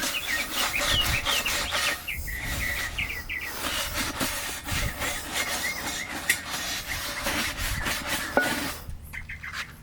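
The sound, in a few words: scrubbing dirty BMW E30 shifter bushing parts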